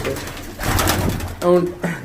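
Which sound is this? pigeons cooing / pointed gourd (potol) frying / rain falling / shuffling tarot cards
pigeons cooing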